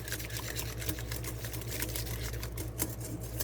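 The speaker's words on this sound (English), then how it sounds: "Just going to blend this all together and make sure it's well combined and whisked." Low-carb biscotti dough being blended and whisked with a mixer, a steady whirring motor hum with a gritty, churning texture running continuously and fairly close.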